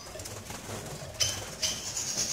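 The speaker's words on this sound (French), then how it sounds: "Encore un couple de bouvreuils." Faint short calls from a pair of bullfinches in an aviary, a few soft notes and chirps over a quiet background with light rustling.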